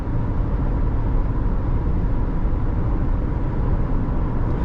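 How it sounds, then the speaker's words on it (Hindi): Wind noise inside a Maruti Suzuki Sierra cruising at 106 km/h, a steady, dense low rumble and hiss of cabin wind with no engine or tire sound standing out. "106 की स्पीड पे है तो विंड नॉइज़ आ रही है, टायर नॉइज़ नहीं है, इंजन साउंड नहीं है"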